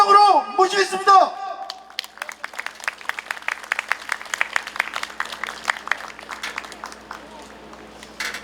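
Crowd at an electrical workers' union rally claps to welcome a speaker, with scattered, sharp claps building into a brisk rhythm. A voice speaks over the opening before the clapping carries on alone.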